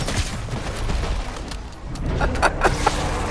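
Sustained gunfire in MW3 Zombies, a steady barrage of rapid shots and booms filling the whole stretch, loud and close with no voices.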